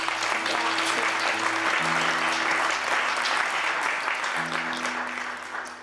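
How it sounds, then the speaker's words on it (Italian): Audience applause at a Christmas nativity-scene (presepi) competition award ceremony held by MCL in Brescia, a full, steady clapping wash lasting several seconds with low sustained music tones underneath, tapering off toward the end. "Un applauso a tutto l'MCL per questo."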